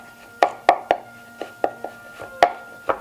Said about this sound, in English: first thing we want to do is chop up a few shallots